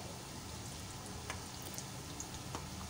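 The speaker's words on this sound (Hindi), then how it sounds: "देखिए फ्राई हो रहे हैं" Bread cone pizza samosas frying in hot oil, a soft steady sizzle and gentle bubbling crackle, faint and continuous, with no talking.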